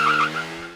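A 2024 KTM Duke 390 motorcycle skids with a short, loud tire squeal that holds a steady pitch and then fades quickly, heard close and alone.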